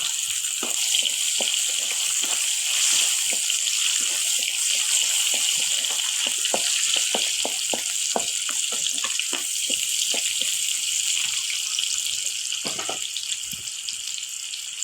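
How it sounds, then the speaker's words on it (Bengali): Onions fry in a pan for fish-head mashkalai dal, giving a steady bright hiss with repeated soft scrapes and knocks of stirring throughout, fairly close and alone. "নাড়াচাড়া করে পেঁয়াজ দিয়ে দিলাম"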